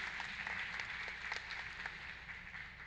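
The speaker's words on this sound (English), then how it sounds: "Let's have a round of applause for all those great people." A small audience applauds the members of a neighborhood safety panel, steady scattered clapping at low, even level lasting the whole moment without speech.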